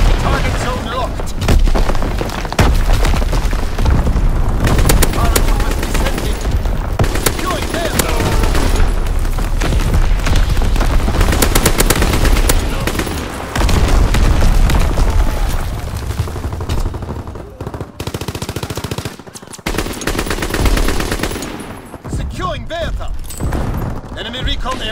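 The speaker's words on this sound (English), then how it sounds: "Dropping incendiaries. Firing for full effect." Artillery and incendiary strike with gunfire in the WWII video game Call of Duty, a dense barrage of loud booms and rattling shots rolling continuously, with voices heard over the chaos.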